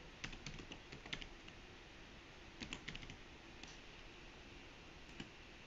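Bursts of keystrokes on a computer keyboard while code is being written, quick clusters of soft clicks separated by pauses, close but quiet, with no talk.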